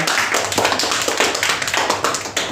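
A school audience applauds a student group after their presentation, dense close clapping from many hands filling the whole stretch at an even, lively pace.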